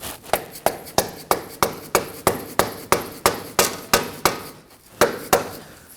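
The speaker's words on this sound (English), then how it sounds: "we can go ahead with a rubber mallet and just tap it on the bottom" Rubber mallet tapping a front lower ball joint into the steering knuckle of a 2016-2020 Kia Optima, about sixteen sharp, evenly spaced blows close by, with a brief pause near the end.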